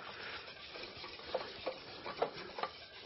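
Whisking a mixture in a bowl produces soft, quiet swishing with a handful of light clicks of the whisk against the side, spaced irregularly and without speech.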